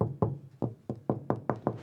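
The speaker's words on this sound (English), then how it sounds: "if I apply the same force it will knock way louder on the side of the van" Knuckle knocks on the bare metal side wall of a van during an insulation build, eight fairly loud, resonant thumps in an even steady rhythm, close by with no talking.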